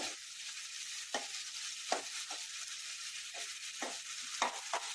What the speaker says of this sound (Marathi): जास्त नाही अर्धा मिनिटभर परतून घ्यायचे आहेत बटाटे